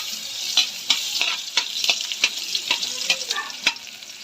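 Garlic and ginger sautéing in a pan, a bright steady sizzle with repeated scraping stirs of a utensil at a regular pace, no talk.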